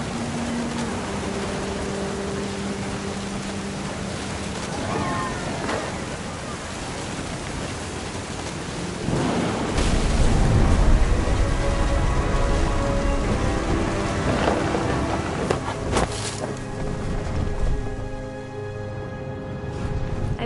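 Heavy rain pours steadily through a thunderstorm in What Remains of Edith Finch, with a deep rumble of thunder swelling near the middle and fading again, loud and close throughout.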